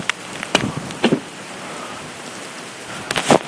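Rain falls steadily outside a house, a constant hiss with a few louder sharp knocks and crackles scattered through it, with no one speaking.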